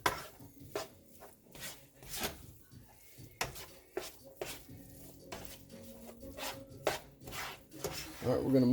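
Cheese rubbed across a metal grater for keto stuffed bell peppers, a repeated rasping scrape in short strokes with occasional clinks of kitchenware, close and moderately loud.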